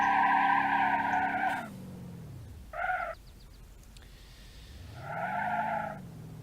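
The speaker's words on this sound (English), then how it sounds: "Front wheel drive burnouts." Front-wheel-drive car in BeamNG.drive doing tire burnouts: a loud tonal tire squeal with a rising-falling engine note, breaking off, then a short chirp and another long squeal rising and fading.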